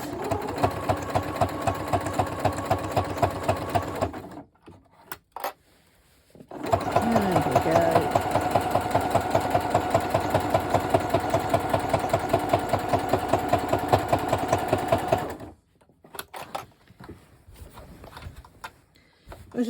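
A sewing machine with a walking foot stitches through a quilt sandwich in long, loud, rapid runs of rhythmic thumping, broken by brief pauses, with a voice talking at times.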